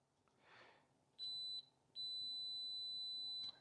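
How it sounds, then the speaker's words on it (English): Multimeter set to continuity mode beeps while probing a faulty OGS-50W power unit for a short: a steady high-pitched electronic tone, first a brief beep, then a pause, then a longer sustained beep, with no talking. "we've got the multimeter in beeper mode"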